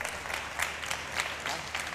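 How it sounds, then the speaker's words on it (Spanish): Applause from an audience at a math-and-magic talk, a fairly quiet, steady spread of clapping with a few louder individual claps scattered through it. "un aplauso para él."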